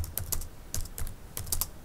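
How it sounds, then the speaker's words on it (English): Typing on a computer keyboard while entering text into a Microsoft Excel cell, a run of crisp, close key clicks in small irregular bursts, with no talk. "Let's type in this one big cell."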